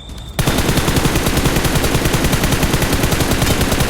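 Automatic gunfire in the mobile game PUBG Mobile: after a brief quiet start, one long rapid burst of shots that carries on to the end, loud and close, with no talk.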